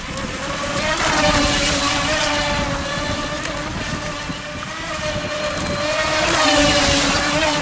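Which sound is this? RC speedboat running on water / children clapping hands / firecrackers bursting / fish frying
RC speedboat running on water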